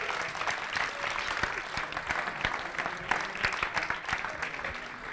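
Audience at a mini sumo robot competition in the Domus museum in A Coruña applauds steadily in a reverberant hall, with dense clapping continuing throughout and faint voices underneath.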